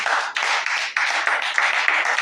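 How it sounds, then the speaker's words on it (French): A church congregation at a spiritual revival service claps together, a loud, dense wash of hand clapping that swells in waves and carries on steadily with no voices. "Applaudissez les Seigneurs."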